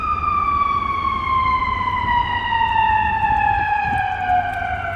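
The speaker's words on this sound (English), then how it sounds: "I'm gonna let this ambulance go by." A loud wailing ambulance siren holds a steady, slowly falling tone, close and dominant throughout, with traffic rumble underneath.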